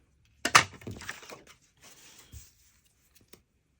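A paper trimmer blade slices through card in one sharp, close cut, followed by a brief quieter slide and a few faint taps.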